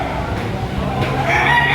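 Chickens at a Philippine market, clucking and crowing close by in a continuous busy din.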